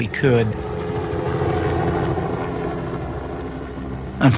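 A helicopter keeps watch overhead through the night, its steady rotor and engine drone holding constant and fairly loud, with brief voices breaking in at the start and end.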